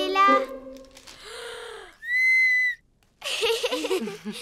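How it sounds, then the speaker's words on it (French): A toy whistle at a children's party gives a bright, steady tone in the middle of the clip, with children's voices and other playful sounds before and after it. "Regardez, c'est un sifflet."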